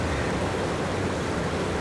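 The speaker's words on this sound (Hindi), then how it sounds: "यार ये झरना तो बहुत डरावना।" A waterfall rushes in a steady, dense roar that stays uniformly loud throughout, with no breaks and no voices.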